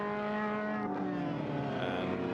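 Several saloon race cars run bunched together behind a safety car during a circuit race, a steady loud engine drone with layered harmonic tones shifting slightly in pitch throughout.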